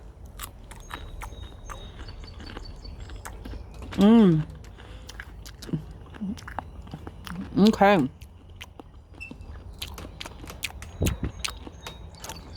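Two loud crunchy bites into a fresh, crisp Itachi cucumber, followed by softer chewing and small clicks, with a brief spoken word.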